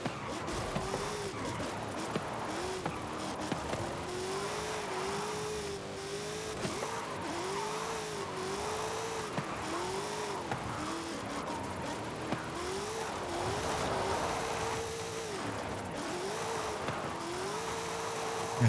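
A drift car engine in Forza Horizon 5 revs continuously, its pitch rising and falling in repeated waves as the throttle is worked through slides, steady and close with tyre noise beneath.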